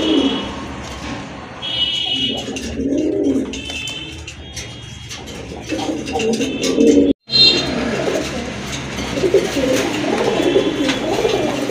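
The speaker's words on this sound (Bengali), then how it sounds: "আরেক জোড়া কবুতর, খুবই সুন্দর এক জোড়া চিলা কবুতর, অনেক বড় সাইজের কিন্তু কবুতরগুলো" Large pigeons coo in a low, throaty, repeated rhythm close by, with soft chirps and scattered rustling around them, broken by a sudden brief silence midway.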